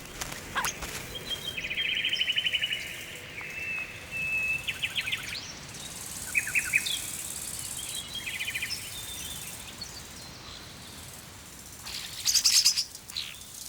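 Starlings chirp and call with high, chattering whistles in bursts over steady outdoor ambience, a busier flurry of calls near the end.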